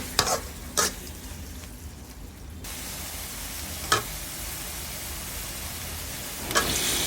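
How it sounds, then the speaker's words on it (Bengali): Prawns frying in a pan with tomato, ginger-garlic paste and spices, a steady soft sizzle with a few sharp stirring scrapes and clanks at intervals, close and moderately quiet with no voices. "টমেটো দিয়ে ভালো করে কষিয়ে দিয়ে দিলাম চিংড়ি মাছ"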